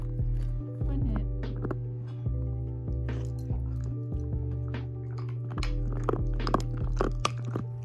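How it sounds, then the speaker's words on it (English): A pet pig chews cheese with soft, wet crunching and smacking bites close to the microphone, while someone talks over the chewing now and then. "I'll get you chewing on yours too"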